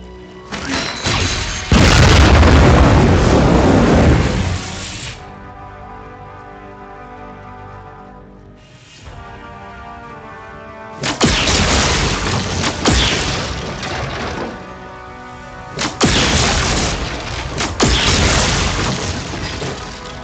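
Grenades blast and smash consoles in the Marvel Heroes video game, with loud bursts of booming crashes and shattering debris separated by quieter stretches of droning game ambience.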